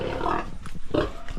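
A sow on a small farm gives two short, close grunts over a brief moment, low and rough, with a small pause between them.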